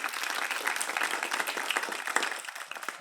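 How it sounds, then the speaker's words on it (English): A school board meeting audience gives a sustained round of applause for a varsity team student, dense overlapping claps from many hands at steady volume with faint voices beneath. "So let's give him a round of applause."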